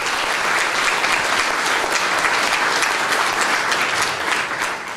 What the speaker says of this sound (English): So can we give a round of applause to MS Views and News?